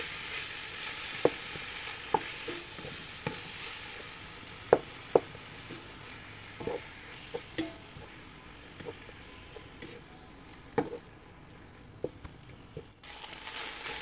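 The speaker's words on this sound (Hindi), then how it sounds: "अब मिन्स को, जिंजर गार्लिक को, और इन तमाम चीज़ों को एक साथ अच्छी तरह से भून लूँगी" Minced meat with ginger and garlic fries in a pan with a soft, continuous sizzle, broken by scattered sharp knocks and scrapes of stirring, fairly quiet and close.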